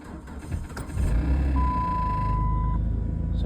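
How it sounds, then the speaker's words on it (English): An old car with about 210,000 km, a poor battery connection and a noisy timing chain starts from cold, then idles steadily and close, with a brief steady electronic beep over the engine. "Some noisy timing chain."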